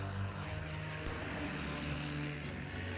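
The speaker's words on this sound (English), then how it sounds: "This one's only big enough to launch a scout plane with a catapult." Propeller scout plane launched by catapult from a small early American aircraft carrier, heard as a loud, steady engine drone with a low throbbing hum throughout.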